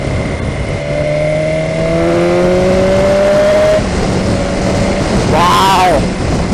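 A 2018 BMW S 1000 XR motorcycle engine revs hard through closely spaced gears, with rising tones climbing and stepping up in pitch, then a sharp throttle blip near the end, loud and close over road and wind noise.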